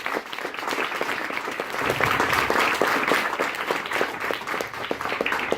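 Sustained audience applause fills a French farewell gathering, a dense steady wash of many hands clapping at moderate loudness, swelling slightly in the middle and continuing without talk throughout.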